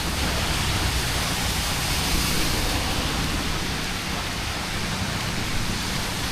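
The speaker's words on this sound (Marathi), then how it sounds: "खूप जोरात पाऊस पडतोय" Heavy first monsoon rain in Mumbai pours down as a dense, steady roar of broadband hiss, loud and unbroken, with no voices heard.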